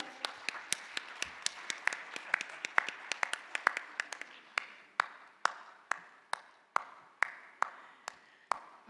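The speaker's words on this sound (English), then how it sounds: "Round of applause for Dr." A small group applauding at a conference session, starting with scattered overlapping claps that thin out into a single person's slow, evenly spaced claps, sharp and fairly close in a quiet room.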